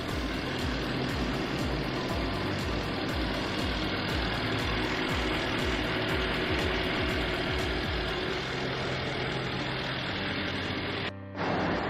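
A 2021 Bentley Bentayga engine idles steadily and loudly at close range with a low, even rumble, cutting out briefly near the end.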